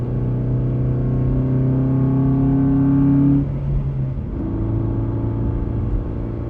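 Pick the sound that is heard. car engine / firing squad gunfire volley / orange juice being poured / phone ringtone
car engine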